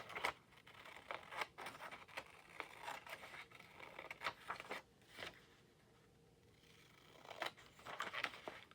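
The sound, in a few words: cutting something down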